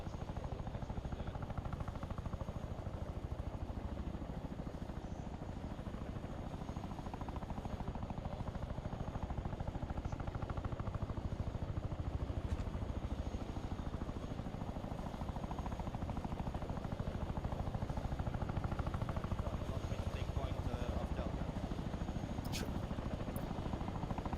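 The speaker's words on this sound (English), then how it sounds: "the helicopter will come straight back in" Helicopter in the military video game Arma 3, a dense continuous rotor drone and engine roar that stays loud and steady throughout, with faint game sounds now and then.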